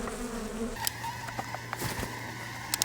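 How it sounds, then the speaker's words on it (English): Agitated honey bees buzz during a hive inspection, a close, continuous droning hum with a few sharp ticks and knocks. "Man, these bees are angry."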